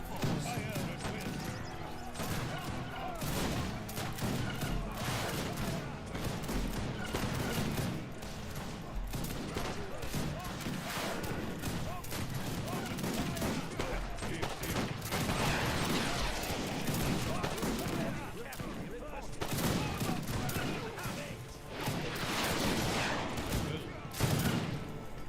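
Musket rifle volleys in the video game Age of Empires 3 crack again and again in rapid, irregular bursts, loud and close, forming a sustained battle din with voices faintly mixed in.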